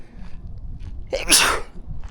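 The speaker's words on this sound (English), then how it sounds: "sneezing there, it's so fresh" A single sharp sneeze bursts out close by, preceded by a quick intake of breath, in an otherwise quiet room.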